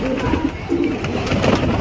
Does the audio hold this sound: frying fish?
no